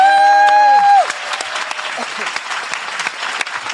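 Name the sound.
audience applause for Cynthia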